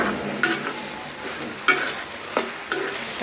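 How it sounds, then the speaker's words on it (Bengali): Fish roe fries in oil in a pan with a steady sizzle, broken by several sharp scrapes and clanks from a spoon stirring it at close range, with no one talking. "তেলে ভাজা ভাজা করবো"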